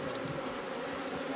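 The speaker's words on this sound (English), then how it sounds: "keeping bees in hollowed-out tree trunks isn't a very efficient method" Bees buzz around hollowed-out tree trunk hives in rural Nepal, a dense, continuous hum that stays steady and close.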